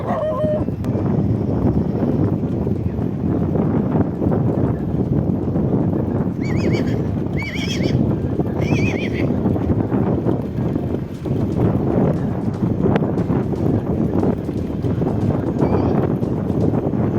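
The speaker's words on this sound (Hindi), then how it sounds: "तो शायद आपको हवा के साथ साथ उस घोड़े की आवाज़ सुनाई दी होगी" A wild horse charges close by in open windy country, its hooves pounding rapidly under constant loud wind, with several shrill neighs bursting out midway.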